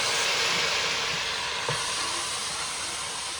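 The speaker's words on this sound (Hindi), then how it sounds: "ये देखें, अब इसमें मैं डालूँगी अदरक लहसुन का" Ginger garlic paste sizzles in a pan with browned onions, a steady loud hiss of frying that holds throughout with only slight variation.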